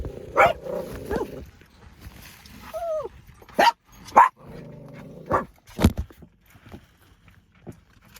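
A dog barks in short sharp bursts, several barks spaced irregularly, fairly close, with some rustling and movement between them.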